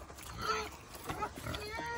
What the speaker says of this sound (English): Oh, this big pig.